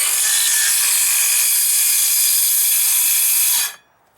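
A power saw cuts shallow lines into a wooden deck beam during dry rot repair, a loud steady high-pitched whine running continuously before cutting off sharply near the end.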